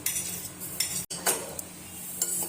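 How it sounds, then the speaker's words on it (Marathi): Poppy seeds roasting in a hot pan: a utensil scrapes and stirs them in quick strokes, with light dry crackling. "आता या गरम कढईतच आपण थोडीशी खसखस भाजून घेऊया"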